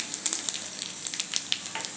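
Chopped garlic and two dried red chillies sizzle in hot ghee for a dal tadka tempering, a steady close crackle with quick bright pops scattered throughout, no talking.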